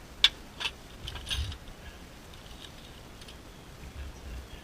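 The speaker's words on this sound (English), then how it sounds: "let's go ahead and remove the horn. That's a 12mm socket." Ratchet with a 12mm socket working on car horn bolts on a 2001 Infiniti QX4, a few faint clicks early on, then fading into quiet background.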